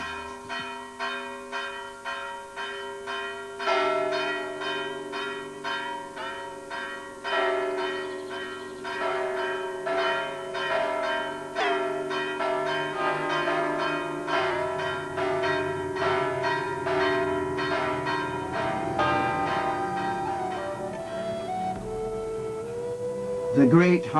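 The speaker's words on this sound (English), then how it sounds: "Listen to the bells." Church bells peal on the road to Meikle Seggie in Scotland, overlapping rhythmic strikes ringing steadily throughout with a soft voice speaking at the start.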